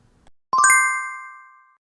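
A single bright notification bell ding rings out loud and clear after a moment of quiet, its shimmering tone sustaining and slowly fading for over a second.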